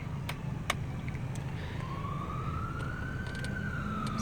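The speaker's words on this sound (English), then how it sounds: "we have a squad car coming down here running lights and sirens" A police squad car siren wails faintly in the distance with lights running, its tone slowly rising and falling over a steady low rumble of road and engine noise, with a couple of sharp clicks early on.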